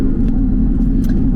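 Porsche fitted with a SCART exhaust, valves open, gives a steady, loud, deep engine rumble from inside the sports car, continuous and without revving.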